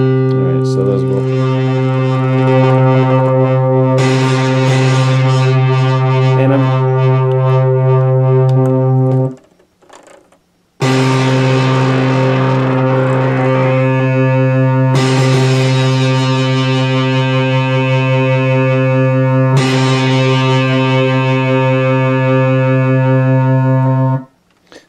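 Harsh, buzzing distorted synth tones from an Akai MPC 2000XL sampler's distortion effect with ring modulation, metallic overtones, play in long sustained blocks, cutting out briefly near the middle.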